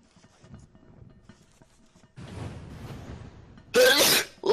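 A loud, close sneeze erupts near the end in a single sharp burst, following a stretch of quiet game ambience and a rise in background noise, in Don't Starve Together.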